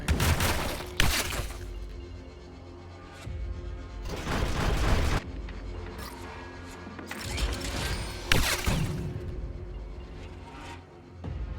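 Acid grenades bursting in the turn-based tactics game Deep Fringe: several loud, crashing blasts at irregular intervals, each a broad splashing burst with a hissing tail, over a low rumbling game backdrop and no talk.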